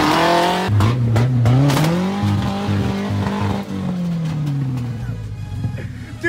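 A Ford Ranger with a cut exhaust revs loudly nearby on wet pavement, the engine note climbing and holding with tire squeal, then dropping off abruptly near the end.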